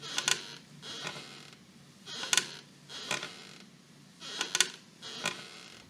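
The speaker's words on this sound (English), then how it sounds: "That's my rocking chair on the front porch." Wooden rocking chair creaking on a front porch in Appalachia, a series of distinct creaks in an uneven rocking rhythm, about six strokes, moderately close with no talk.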